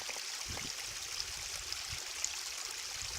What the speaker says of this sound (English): This is what you're hearing back here. This little waterfall back here.